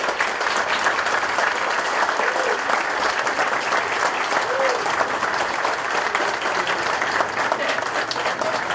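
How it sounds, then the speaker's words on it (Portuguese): Sustained applause from an audience at a museum inauguration, honoring the family of the man the museum is named for. Steady, dense clapping fills the whole stretch at an even level without letting up. "peço a todos uma grande salva de palmas para os familiares do Mário Fava"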